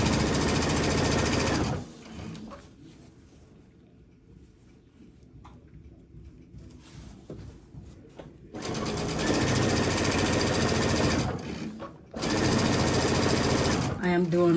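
A sewing machine stitches T-shirt quilt blocks with a quarter-inch seam, running in loud steady bursts of whirring mechanical buzz, pausing for a quieter stretch in between, then restarting briefly twice.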